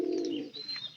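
A pigeon coos close by, a low, steady murmur that rises and falls across about a second with no voices present.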